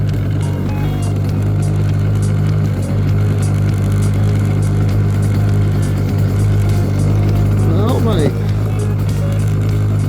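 A boat motor runs with its throttle raised slightly and a sticking throttle, heading out from an island campsite on a clear day: a steady, close, droning hum that holds level throughout, with a brief high chirp near the end.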